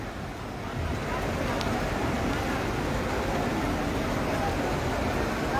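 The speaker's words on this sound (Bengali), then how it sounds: "বৃষ্টি পড়তেছে" Heavy rain pours onto a flooded city street in Arambagh, Dhaka, a dense, unbroken roaring hiss that swells in the first second and then holds loud and steady throughout.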